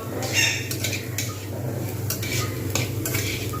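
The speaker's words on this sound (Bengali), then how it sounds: "এইভাবে খুব ভালোভাবে ভাজতে হবে" Cabbage stir-fried in a pan for a moong dal dish, with a constant sizzle and a low hum under repeated brisk stirring scrapes of a spatula, close and steady, no speech.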